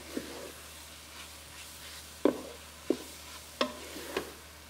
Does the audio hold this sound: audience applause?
no